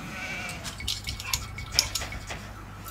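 Short sheep bleats from Age of Empires II gameplay, mixed with light clinking and clicking game effects, fairly quiet with several brief bursts spread across the moment and no talking.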